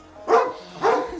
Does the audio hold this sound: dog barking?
yes